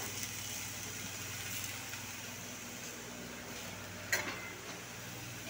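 Potatoes frying in a covered pan over an outdoor cooking fire, a faint steady sizzle with low background hum, one brief clatter midway, and no talk.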